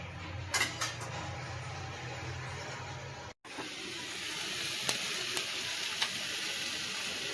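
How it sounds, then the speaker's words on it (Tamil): Salted tomatoes sauté in a pan, giving a soft, steady hiss of frying that cuts out for a moment and resumes, with a few faint clicks of a spoon against the pan. "நல்லா பச்சை வாசனை போகிற அளவுக்கு நல்லா வதங்கலாம் வதக்கி விடலாம்"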